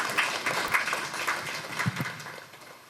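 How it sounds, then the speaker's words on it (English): Applause from the audience at the JoyNews Impact Makers Awards ceremony, a broad wash of clapping that holds steady for about three seconds and then tapers off slightly. "A round of applause to him."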